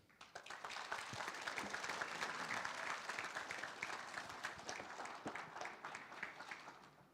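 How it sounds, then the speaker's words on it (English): Audience applause at a centennial celebration, a moderately distant crowd clapping that swells in over the first second, holds steadily with some sharper individual claps, and tapers at the end. "Let us give a round of applause of this great moment again."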